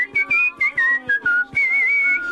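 A man whistling a bright, steady melody from an old cassette tape recording, rhythmic phrases broken by short breathy pauses, close and alone.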